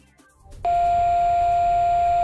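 A single steady electronic confirmation tone from a home alarm transmitter, answering a motion detector's test button, switches on abruptly after a moment of faint background and holds, loud and unbroken, to the end.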